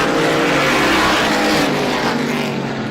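A tight pack of SBM 125 race cars roars nose to tail down the straightaway at Star Speedway during a heat race, a loud, continuous engine blare filling the whole stretch.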